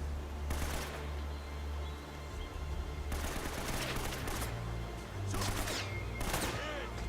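Gunfire in Uncharted: Drake's Fortune, several bursts of shots in clusters with quieter gaps between, mixed with low ambient rumble.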